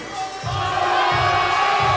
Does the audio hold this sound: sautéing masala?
no